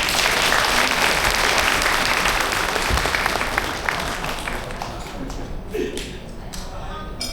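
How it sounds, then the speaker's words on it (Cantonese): A loud, dense round of audience applause at a trade association inauguration ceremony fills the room, then gradually thins out toward the end with a few scattered claps. "我哋俾啲掌聲好唔好啊？"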